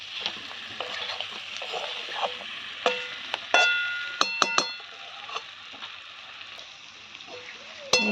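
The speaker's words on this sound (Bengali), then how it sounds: "আমি যতক্ষণ না মশলা থেকে তেল ছেড়ে দিচ্ছে ততক্ষণ কষতে থাকবো।" Spice paste for a pangas fish and potato curry fries in oil. A soft sizzle runs under repeated sharp clinks and scrapes of a spatula stirring against the pan, close and irregular.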